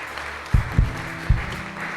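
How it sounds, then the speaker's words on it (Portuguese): A church congregation at Bola de Neve Betim applauds for about two seconds. A few heavier low claps stand out over a thin, steady patter, close and moderately loud, with no talking. "Pode aplaudir o Senhor."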